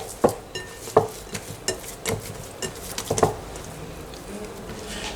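Bread dough for herb and cheese garlic bread being squished around in an oiled bowl, a string of soft, close, irregular knocks and wet slaps against the bowl, with no talking.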